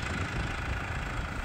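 Tractor engine idling in a hay field on a sheep farm, a low steady rumble with mid-range hum, close and continuous for a brief moment with no talk.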